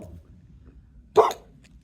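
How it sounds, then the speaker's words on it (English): A single sharp dog bark rings out in otherwise quiet surroundings, short and fairly close. "barking at probably a rabbit or a bird"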